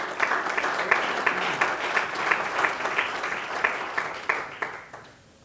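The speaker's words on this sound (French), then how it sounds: "Est-ce qu'on peut donner une main d'acclamation au Seigneur?" A church congregation applauds in a rhythmic, pulsing clap at moderate distance, beats fairly regular and fading out toward the end.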